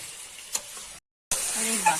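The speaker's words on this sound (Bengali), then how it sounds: "এখন কষানো হচ্ছে কড়াইয়ের মধ্যে" Mutton being stirred and sizzling in a wok while cooked down in a red-spiced Bengali dish, a steady close fry with one scraping clack early, a brief silent gap, then louder sizzle resuming with faint talk.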